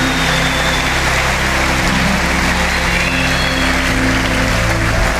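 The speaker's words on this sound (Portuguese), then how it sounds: "Pode aplaudir o Senhor." A church congregation applauds in praise during a Portuguese sermon, a dense, continuous wash of clapping hands that fills the room at a steady loud level with no break.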